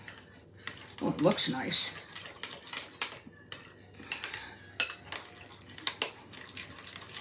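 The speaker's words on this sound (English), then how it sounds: "let's stir this up and see what we got here" A spoon stirs homemade buttermilk ranch dressing with parsley and dill in a bowl, giving quick scraping and light clinks against the dish while a voice speaks briefly.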